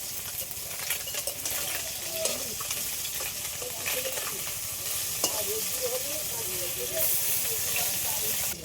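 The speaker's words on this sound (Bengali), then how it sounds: "এই চুনো মাছ ভাজতে গেলে তেলটা একটু কড়া করেই নিতে হবে" Small chuno fish fry in strongly heated oil, giving a continuous close hiss and sizzle with scattered crackles and the occasional scrape of stirring throughout.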